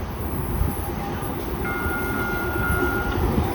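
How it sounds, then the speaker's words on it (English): A Lynnwood Link light rail train comes out of the woods with a loud, continuous rolling rumble of wheels on track and a faint thin squeal running over it. No one speaks. "There's this cool spot where trains emerge through the woods from the north."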